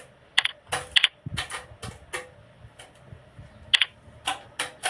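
Login credentials are typed on a computer keyboard in bursts of sharp, close key clicks, some clustered quickly and others spaced apart, in an otherwise quiet room.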